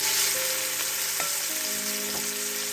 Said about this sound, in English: Then you can go ahead to fry the shrimp.